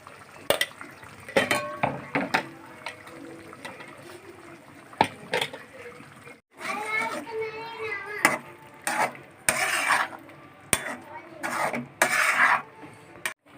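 Spice paste of cashews and other ground ingredients tipped into fried paneer in a pan, with scraping spoon, clinking metal and sizzling stirs close by, broken by short louder bursts of frying.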